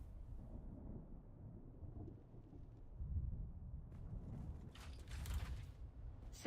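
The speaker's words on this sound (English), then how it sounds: "A large sandstorm is approaching. Here it comes. You can hear it." An approaching sandstorm in the desert video game Dune: Awakening builds as a low, rumbling roar with creaking, gusting texture, swelling into hissing bursts toward the end.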